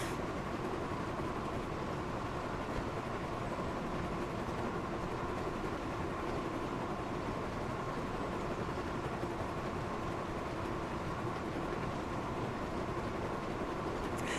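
Gordon, a big blue steam engine from Thomas & Friends, hauls four carriages across a game rail line, a steady continuous rumble of wheels and engine holding at an even level throughout with no talk.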